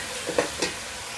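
Chicken sizzles steadily in a pan while a spoon gives two quick scraping stirs close by.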